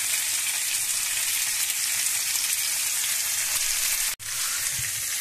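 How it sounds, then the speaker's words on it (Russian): Moray eel fish crackles and sizzles steadily in hot oil in a pan, a dense continuous frying sound with a brief dropout near the end. "С одной стороны прожарили, потом с другой стороны прожарили."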